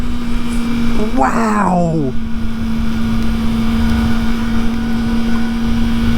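A Kawasaki ZX4RR motorcycle engine holding a steady high-pitched drone, with a brief rising-and-falling rev in the middle while a person exclaims over it.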